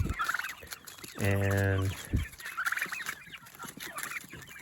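Turkeys gobble loudly and close by for about a second, a rapid rattling burst, amid softer clucking and pecking from turkeys and chickens eating a head of romaine lettuce.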